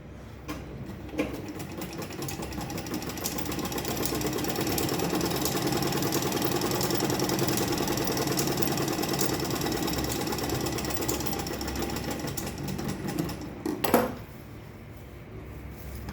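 A sewing machine runs steadily and close up, stitching the panels of a handmade fabric purse, with a continuous whirring rattle throughout and a brief clack near the end before it settles to a quieter hum.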